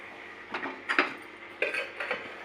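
A bowl is set on a stove and a spoon clinks as oil is added for a masala fry. A few light metallic knocks and clinks sound close but fairly faint over quiet background hiss.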